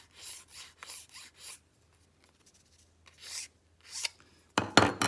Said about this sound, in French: quand je lime, j'essaye de suivre avec ma lime la courbure de mon calibre